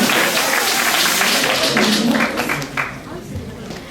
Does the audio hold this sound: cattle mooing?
no